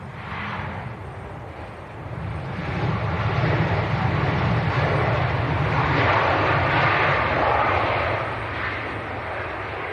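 A Jet2 Boeing 737-800 at Leeds Bradford Airport roars with a broad, steady engine rumble that swells louder through the middle and then eases slightly, heard from a distance outdoors.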